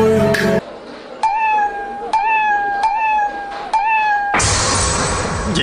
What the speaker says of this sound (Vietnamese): Gì chứ? Một con mèo nữa hả?